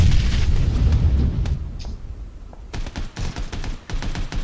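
A grenade explodes in the video game PlayerUnknown's Battlegrounds, a loud, rumbling boom that fades into scattered crackling blasts and thuds.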